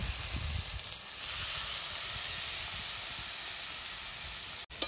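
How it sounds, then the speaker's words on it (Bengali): A poppy seed and green chili paste sizzles among boiled potatoes in a pan, a soft continuous hiss at low level with a sharp click near the end and no voices. "এবার আমি পোস্ত আর কাঁচা লঙ্কা বাটা দিয়ে দেব।"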